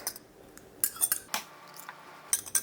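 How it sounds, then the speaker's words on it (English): Eggs beaten with a fork or whisk in a separate bowl, quick irregular metallic clinks and taps against the bowl, close and fairly quiet with no talking. "Give it a quick little beat there."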